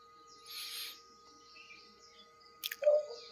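Pet birds call in the morning, with a soft rustling burst early on and then a few short, sharp chirps and whistles near the end against a quiet background with a faint steady hum.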